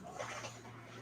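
A dog whimpers in short, soft, high whines over a muffled background, fairly faint and close, with no clear talking.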